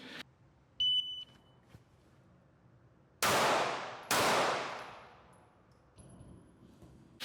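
Two pistol gunshots drawn and fired from the holster at a 7-yard line during a police firearms qualification, loud sharp reports about a second apart, each with a decaying tail, preceded by a short timer beep.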